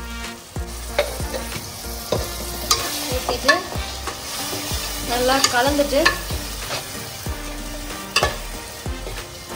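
Ground masala paste is stirred into salna frying in a pan, with repeated scraping strokes of a spoon over a continuous oily sizzle, close up, and a short spoken word partway through.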